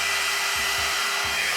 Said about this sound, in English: Listen, sounds like a hairdryer.